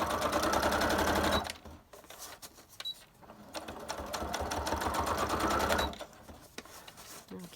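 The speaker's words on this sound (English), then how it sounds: "stitch around this on the sewing machine" Sewing machine stitching around laminated lace journal pages, two bursts of rapid, even mechanical chatter separated by a short pause, close and fairly quiet.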